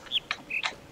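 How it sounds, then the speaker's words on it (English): Short bird chirps from a video game set around a jungle, monastery and swamp: three quick cheeping calls in about a second, close and clear with no talk. "That was the bird noise from the start. The cheep chirp."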